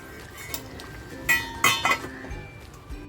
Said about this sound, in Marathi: परत झाकण लावून ठेवून देते